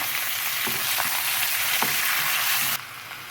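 Chicken frying in a pan for biryani, a loud, even hiss of hot oil with a few stirring knocks; the sizzle drops off abruptly near the end.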